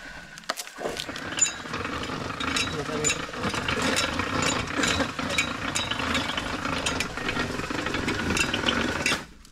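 Machine pressing sheets of rubber in a small hill workshop, a continuous mechanical rattling drone with rhythmic clanks, loud and near, while people talk over it.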